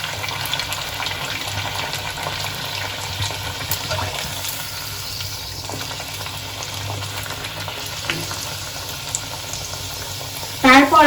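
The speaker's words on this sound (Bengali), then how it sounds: "তেলটা খুব ভালোভাবে গরম হয়ে গেছে, এবার আমি লুচিগুলো করে নিচ্ছি" Sago luchi fries in well-heated oil with a soft, continuous sizzle and bubbling, steady and moderately close, with a brief louder splash near the end.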